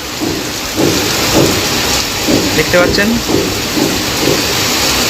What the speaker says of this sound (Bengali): বৃষ্টির পরিমাণটা কিন্তু বাড়ছে আস্তে আস্তে